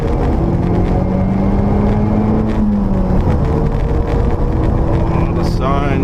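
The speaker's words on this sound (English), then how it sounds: "You can hear the turbo spooling up from in here." A 2015 Opel Astra OPC pulls hard from second gear at 3,000 RPM, heard from inside the cabin as a loud, rising engine drone with a climbing turbo whine, while people talk over it.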